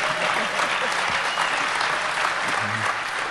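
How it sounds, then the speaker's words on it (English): Dense audience applause fills a hall at the DEFCON 19 hacker conference, steady, loud clapping from a large crowd throughout with no break. "Well, don't applaud so loud."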